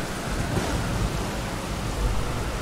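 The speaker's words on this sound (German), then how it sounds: "Regnet das jetzt?" Rain pours down steadily in the video game Elden Ring, a dense broadband hiss with low rumbling thunder underneath, continuous and enveloping throughout.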